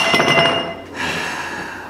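A wine glass dropped on a floor that dents but does not shatter, giving a bright clink and a short clatter that then fades into quiet room noise.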